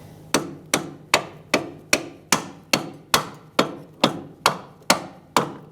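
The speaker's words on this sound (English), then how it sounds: "I'm going to tap these bolts out" A rubber mallet taps out the strut mount bolts on a 2002–2006 Toyota Camry, about a dozen sharp, evenly spaced close knocks that ring briefly before the next, with no voices.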